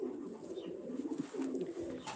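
Racing pigeon cooing softly while being basketed, low murmuring coos rolling on steadily and close, with faint higher chirps above.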